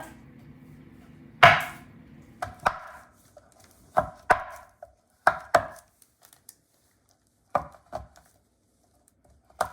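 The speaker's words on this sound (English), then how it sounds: "I'm going to take our knife and I'm just going to go ahead and chop it up." A knife chops a block of chocolate into pieces on a cutting board, giving sharp, separate thuds in an irregular rhythm with short pauses between them, close and clear against a quiet background.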